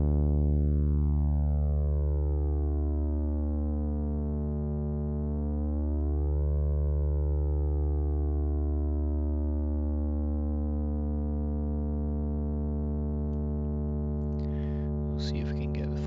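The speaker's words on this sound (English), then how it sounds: "once the two base oscillators are 180 degrees out of phase, it actually cancels the fundamental" Synthesizer tone from two bass oscillators drifting in and out of phase, a steady buzzy drone whose sweeping harmonics shift and thin as the fundamental cancels, loud and sustained with a brief noisy crackle near the end.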